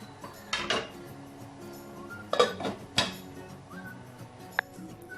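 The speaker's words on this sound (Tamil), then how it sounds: "இப்போ இதை மூடி வச்சுக்கலாம்." A lid going onto a pot of vegetable pulao, heard as a few distinct metallic clinks and clatters of cookware spread across a few seconds in a quiet kitchen.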